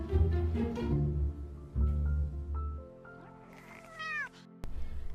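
A cat meows loudly and repeatedly up close, with drawn-out, wavering cries and a rising yowl near the end, heard alone without talk.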